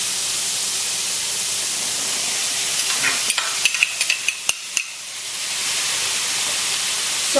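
Bacon and onions sizzle steadily in a pan under a dense hiss, with a short run of sharp clicks and scrapes partway through before the frying settles back to an even roar.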